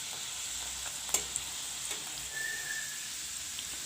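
Dry red chilies fry with browned garlic pods in a pan, giving a steady close sizzle of hot oil with a few sharp clinks and a faint whistling tone partway through.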